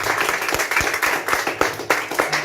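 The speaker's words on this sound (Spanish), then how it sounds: "Den un aplauso y un fuerte al Señor." A church congregation claps in a loose, fairly steady burst of applause that sounds moderately close and lively throughout.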